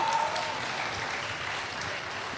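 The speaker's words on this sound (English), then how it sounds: "You can clap, it's okay." An audience at a Diablo 3 questions-and-answers panel claps steadily, a dense wash of applause that holds at an even level throughout, with no one speaking over it.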